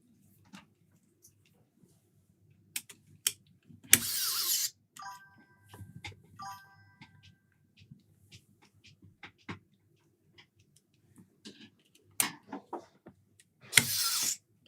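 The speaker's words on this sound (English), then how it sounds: "The screwdriver sounds so dead." A battery screwdriver drives in the last screws, two short harsh whirring bursts with softer clicks, taps and scraping handling between them, close and fairly quiet.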